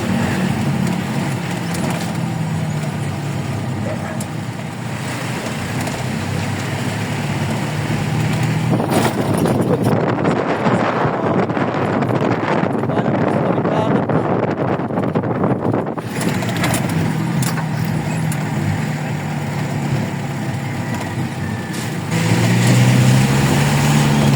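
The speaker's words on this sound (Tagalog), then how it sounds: "Sarap ng hangin, boy!" Steady broadband wind rush over a vehicle engine rumble, continuous and loud throughout, swelling stronger in the middle section.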